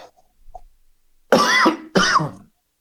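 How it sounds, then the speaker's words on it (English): Two loud, close coughs in quick succession after a quiet stretch with faint small noises. "I don't know if that was successful stifling that cough or not"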